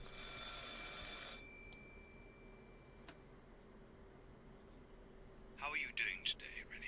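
A telephone rings in the horror video game Martha Is Dead: a bright, steady electronic ring fills the opening second, then stops, leaving quiet ambience before a short burst of chirping sound near the end.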